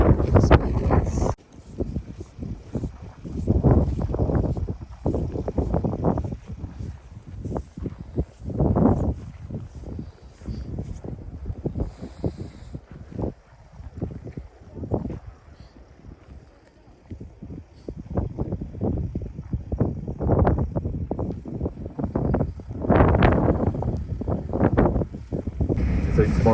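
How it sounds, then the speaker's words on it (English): Cold December wind in Iceland buffets the microphone beside a glacier lagoon in loud, gusty bursts, with people talking intermittently through the rumbling gusts. "It's cold and windy"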